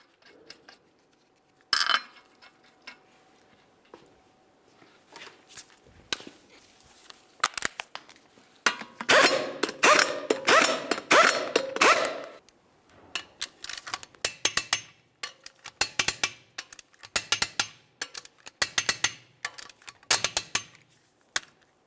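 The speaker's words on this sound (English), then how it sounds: "we'll torque each of these to 89 foot-pounds" Lug nuts on a 2012-2014 Volkswagen Jetta front wheel are tightened with a torque wrench, a run of sharp metallic clicks and ratcheting bursts, loud and close, with a short quiet stretch between bouts and no talk.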